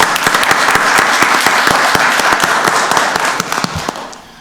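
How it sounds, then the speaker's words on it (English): A council chamber audience at a county board of commissioners meeting bursts into loud, sustained applause for a newly confirmed deputy director, dense clapping with sharp individual claps throughout, tapering slightly near the end. "Let's give him a round of applause."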